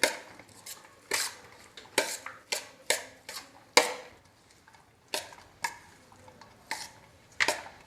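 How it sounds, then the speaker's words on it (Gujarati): Vegetable mayonnaise sandwich filling stirred in a bowl, a spoon clinking against the sides in a steady run of sharp knocks, about two per second, close and fairly quiet. "હવે બધું સારી રીતે મિક્સ કરી લઈશું."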